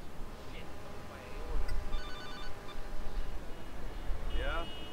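A telephone rings in GTA Liberty City Stories on PS2, a few electronic ring bursts over game background noise, with someone talking in between.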